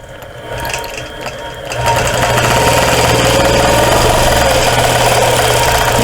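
A sewing machine stitches a strawberry basket quilt in stitch-regulated mode, running as a loud, steady rapid whir that settles into a continuous drone after a softer start.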